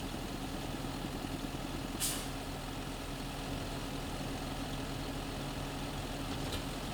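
A tractor engine in a farming simulator game hums at a steady idle throughout, low and continuous, with a brief hiss partway through and no talking.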